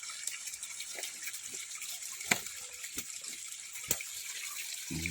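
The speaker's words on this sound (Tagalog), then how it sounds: "Diyan na nagagas na ang tubig gikan dito sa babaw." Water pours down from higher up in a steady, close gush with a bright hiss, broken by a few sharp knocks and clicks, with no voices.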